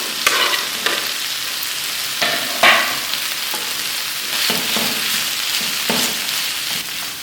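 Boiled potatoes fry in a pan for a vegetable samosa filling, with a loud continuous sizzle broken by repeated scraping and knocking strokes of a spoon stirring.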